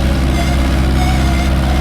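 A tractor idles in the Farming Simulator 25 video game, a steady, loud, low-pitched engine rumble with no change in pace and no voices.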